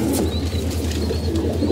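Pigeons in a loft on a rainy day give soft, repeated low cooing calls close by, overlapping in a continuous murmur with no talking.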